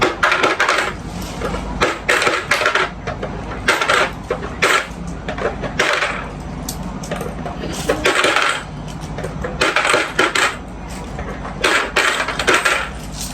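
Handfuls of coins clatter and clink as they drop into a piggy bank, with irregular bursts of metallic jingling and rattling, loud and close, in repeated clusters with short pauses between.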